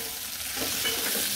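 Sliced onions fry in oil for Andhra-style perugu charu, a brief, steady close sizzle with faint stirring and no voices.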